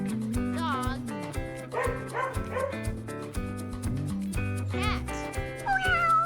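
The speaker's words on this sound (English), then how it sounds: "Dog." A dog barking a few times over a busy musical backing track, the barks short and close amid melodic music.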